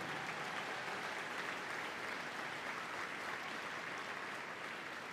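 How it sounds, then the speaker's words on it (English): Steady, even applause from the audience at the Scruffts final at Crufts 2022, a dog show, with dense clapping throughout and nothing else prominent. "Give her a big round of applause"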